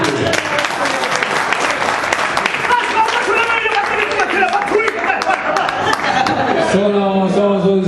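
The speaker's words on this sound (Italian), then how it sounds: "Un applauso, via!" A crowd at an Over35 league awards party bursts into sustained, dense applause that fills the room, with voices talking and chatter rising over the clapping toward the end.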